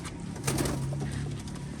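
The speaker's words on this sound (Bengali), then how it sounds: "এই কি কি পায়রা আছে তোমার কাছে?" Pigeons coo softly at a pigeon farm, a low, throaty cooing rolling steadily over a hazy background hum, fairly faint and with no voices.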